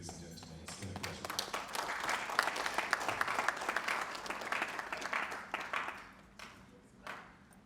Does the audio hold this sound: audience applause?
yes